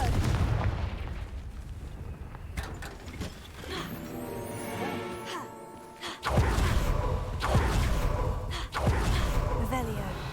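Confringo fire-blast spell cast repeatedly in a Harry Potter video game, producing heavy booming explosive bursts and rumbling impacts layered over continuous game noise, with a voice speaking over it.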